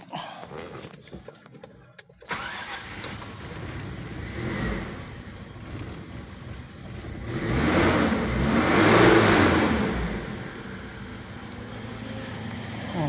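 A Toyota 7K car engine with low power and hesitation on acceleration cranks and catches, then idles roughly before revving up in a long swell and settling back down, close by.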